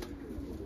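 Black smoky pigeons give a brief, low, soft coo close by, over a steady faint background hum.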